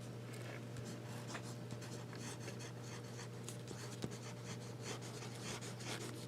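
A Faber-Castell fountain pen nib scratching softly across paper in faint, irregular strokes over a quiet steady background hum.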